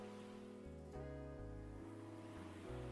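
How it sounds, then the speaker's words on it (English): Soft ocean waves wash steadily in a Zenless Zone Zero seaside scene, a quiet, continuous surf hush beneath low sustained tones. "the sound of the waves, it's soothing"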